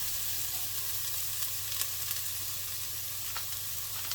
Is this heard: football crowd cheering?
no